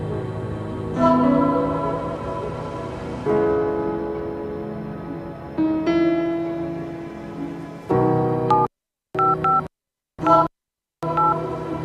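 Telephone keypad tones in an advert for a mobile money service, a series of distinct tonal beeps, some long and some short, sounding loud and close, ending in several quick presses separated by silent gaps.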